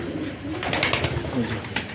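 Pigeons coo softly at close range in a loft, with a newly fledged young bird among them; the low, rolling calls repeat steadily with no talk.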